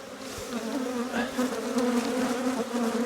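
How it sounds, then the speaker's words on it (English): Honey bees swarming around a beehive, a dense, close, continuous buzzing drone with individual bees flitting past, loud and steady throughout. "bees buzzing around, don't let them try and intimidate you"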